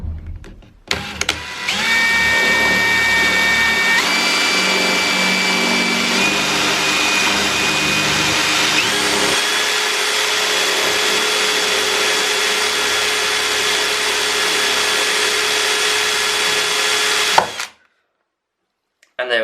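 A power drill whines steadily for about fifteen seconds, its pitch shifting as it bores into a hard shower tray, then stops abruptly.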